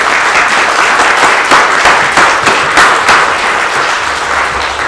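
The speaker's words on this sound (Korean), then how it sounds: "우리 하나님께 영광의 박수를 드리겠습니다" Loud, close applause fills a hall at a theological seminary graduation and degree ceremony, many hands clapping in a dense, steady roar that swells slightly in waves.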